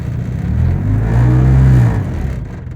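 A two-cylinder car engine revving in neutral with the accelerator pressed, a loud close throaty rise that holds briefly and then drops back to a rough idle.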